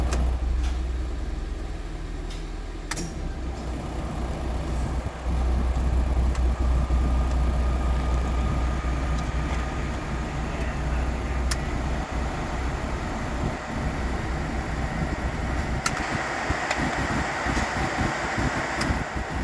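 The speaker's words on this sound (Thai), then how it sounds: "เดี๋ยวเรามาเช็คสปีดพัดลมกันนะคะ" Air-conditioning blower fan running inside a Mitsubishi Champ cab after a new evaporator unit was fitted, a steady whooshing airflow that shifts level as speeds change, with faint clicks and thumps over it.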